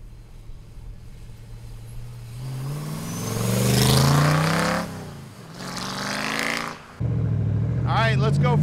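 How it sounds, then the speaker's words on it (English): A Factory 5 Cobra with a supercharged 5-liter engine pulls away, its engine note climbing steadily as it revs and accelerates, with a gear change or lift-off and another rise, while someone talks over it. "let's go for a ride in our Factory 5 Cobra"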